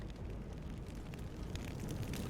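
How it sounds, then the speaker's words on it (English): Steady low roar of fire burning in Deus Ex: Human Revolution, a dense rumbling crackle that holds at an even level throughout with no talk over it. "Fire burns."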